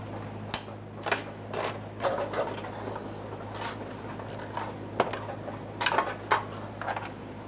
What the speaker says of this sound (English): we can remove our 14mm headed bolt that's holding the fuel strap to the body of the vehicle